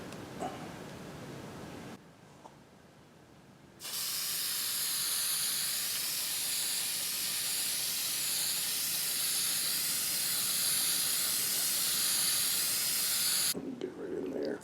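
An aerosol can of varnish sprays a coat onto a colored pencil drawing on sanded paper: a loud, steady hiss held for about ten seconds after quieter handling sounds, then cutting off abruptly.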